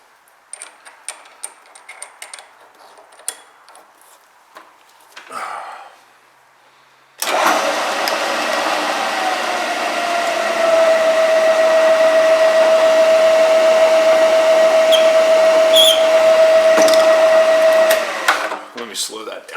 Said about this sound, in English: Using a multi-flute 82-degree countersink for the cap head screw.